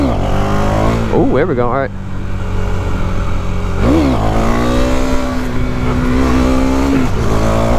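KTM 390 Duke single-cylinder engine revving hard, rising and falling with quick blips before a sustained high-pitched pull as the bike is clutched up into a wheelie, loud and close, with a rider's brief exclamations over it.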